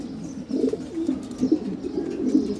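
Domestic pigeons kept in a home loft, a pair sitting on eggs, give repeated low throaty coos in short close bursts, with no talking.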